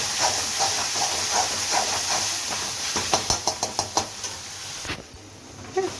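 Onions and spices sautéing in plenty of oil for a chicken gravy, a loud continuous sizzle and hiss with a run of rhythmic ladle scrapes and taps against the pan.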